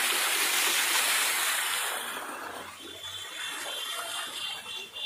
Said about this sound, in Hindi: देख लीजिए यहाँ का झरना है,